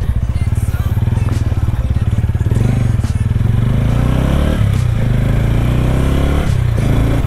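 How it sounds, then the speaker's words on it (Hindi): A TVS Ronin 225cc motorcycle riding steadily on a road, its engine a loud, constant low throb with rapid firing pulses and some wind and road clatter, heard close up throughout. "अभी जब तक सनसेट नहीं होता तब तक एक राइड मार लेते हैं बाइक पर"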